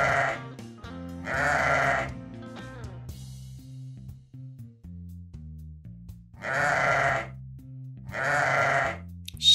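Sheep bleat three times, loud and close, each a wavering cry of about a second, with gentle music playing underneath.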